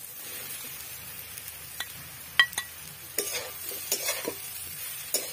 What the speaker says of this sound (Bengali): এবার এর মধ্যে তুলে রাখা আলু সয়াবিন গুলো দিয়ে দেবো।